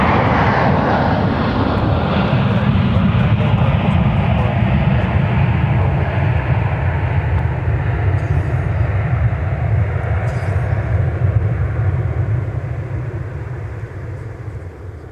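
Airliners arriving and departing at Minneapolis–Saint Paul airport give a steady, loud low jet-engine roar that fills the whole stretch and eases off slightly near the end.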